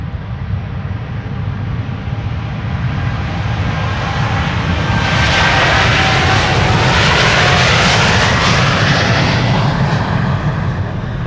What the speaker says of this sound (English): time for KLM flight 605 to depart for San Francisco